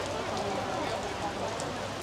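Steady rain falls at Asiatique riverside night market in Bangkok, a continuous hiss of drops on surfaces with busy crowd chatter mixed underneath throughout.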